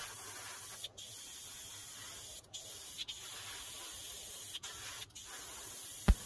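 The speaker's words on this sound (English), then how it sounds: "I will first paint the 1x48 nose cone with Humbrol's matte" Spray bursts of Humbrol matte white enamel onto a 1:48 scale model nose cone, a steady hiss broken by several short pauses, close and fairly quiet, with a small tap near the end.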